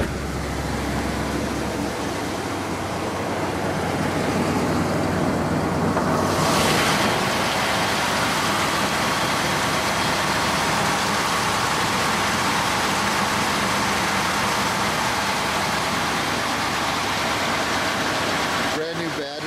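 Rebuilt 425 engine of a 1977 Cadillac Coupe DeVille running with a steady, broad rumble that holds for nearly twenty seconds, close and constant throughout.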